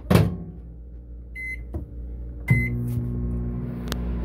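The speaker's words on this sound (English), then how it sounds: "Don't do this to your mom's microwave, please." Microwave oven running with a CD inside, a steady low hum with faint crackling, a couple of short beeps and clicks partway through, close and fairly quiet.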